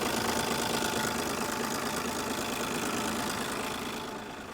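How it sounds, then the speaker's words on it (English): A Cummins diesel engine in a 1993 Dodge D350 truck, recovered after 15+ years in a swamp, idles steadily with a low, rough, knocking rumble that continues throughout, easing slightly toward the end. "she's sitting here idling right now"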